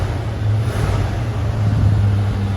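A 1978 Ford Bronco engine idling close up after being brought in cold from outside, a smooth, steady low rumble with an even tone and no talk over it.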